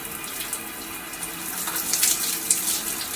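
Tap water runs steadily into a sink or tub as baking soda is rinsed out of hair, a close, rushing splash that swells and spatters unevenly as the hair moves through the stream, with no speech.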